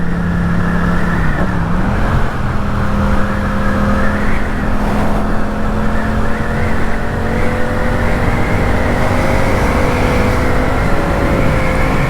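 A Yamaha MT-07 motorcycle engine drones loudly and continuously up close while riding, its pitch rising and shifting as it revs, with steady wind rush underneath.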